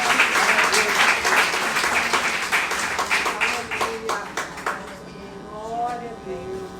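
Sustained congregation applause in a church, steady and fairly close for about five seconds, then tapering to a few claps as a voice speaks.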